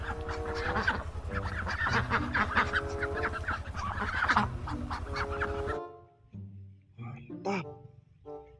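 Duck calls from a cartoonish animal-cleaning game alongside other farm animals, a dense run of honking and quacking with a steady background hum, then a sparse pause and a few final squawks.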